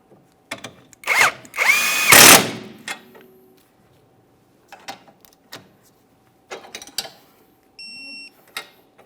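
A power tool such as an impact driver fires several loud, short bursts while removing the bottom mounting bolt of a rear strut on a 2008-2017 Mitsubishi Lancer 2.4L, followed by quieter clinks and handling noises.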